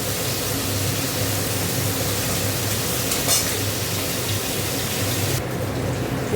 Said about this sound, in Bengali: দেখো এখানে মাছগুলো ভেজে নিচ্ছি